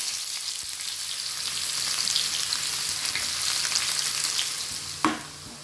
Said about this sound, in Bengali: এর মধ্যে আমি পেঁয়াজ দিয়ে দিলাম।